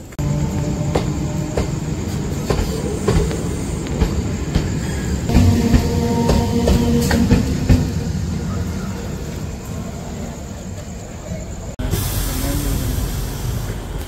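Gour Express pulling out of Bandel station, a steady rumbling rail roar with rhythmic wheel clatter and rattling coaches throughout, briefly cut and resuming louder near the end.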